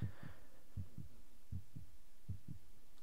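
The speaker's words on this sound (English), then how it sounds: "Fun fact about this heartbeat, it's an audio file and it doesn't loop perfectly, so you can sometimes hear it." Heartbeat loop from the video game Ann, a steady lub-dub pulse repeating about every three quarters of a second, low and thumping over a constant hum, with no voices.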